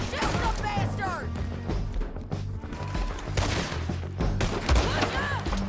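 Rapid gunfire in Red Dead Redemption 2 on PC, shots cracking in quick bursts over a dense low battle rumble, with shouted voices cutting through the firefight.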